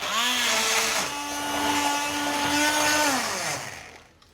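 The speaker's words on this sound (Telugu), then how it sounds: "లేదా ఇలా బ్లెండర్ పెట్టినా ఓకే" Hand blender pureeing boiled tomatoes: a loud, close whirring motor running steadily for a few seconds, its pitch dipping and shifting as it works, then winding down at the end.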